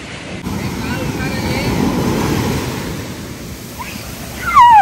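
Ocean waves washing in at Serenity Beach in Pondicherry, a broad, steady surf roar close by with wind buffeting the microphone, swelling toward the end; no clear speech.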